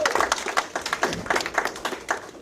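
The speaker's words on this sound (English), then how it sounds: "let's give her a round of applause" A small community audience at a town master plan forum claps in a loose scatter of individual hand claps, moderately close, steady for a couple of seconds.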